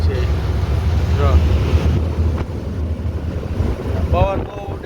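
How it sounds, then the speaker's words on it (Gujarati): Strong wind gusting outdoors before a storm, roaring broadband across the microphone with steady force and brief whistling tones, while a person talks over it. "પવન બહુ ઉડે છે"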